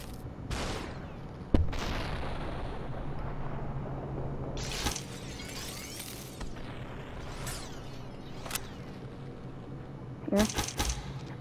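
Gunshots in the video game Superhot ring out as a handful of sharp, scattered cracks over a low, steady background, with a final quick cluster near the end.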